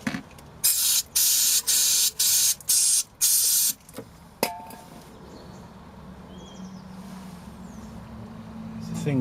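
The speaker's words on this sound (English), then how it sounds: "Brake clean first, then electrical clean." Aerosol cans of brake cleaner, then electrical cleaner, spray in six short loud bursts, one after another, on a car during a windscreen washer pump job. A sharp clunk follows, then quieter background with a low hum.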